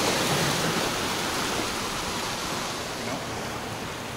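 Steady roaring wind buffets a Sony FDR-X3000 action camera on the Tenerife coast, a dense broadband rush blending with ocean surf that stays loud and constant throughout, with no clear voices.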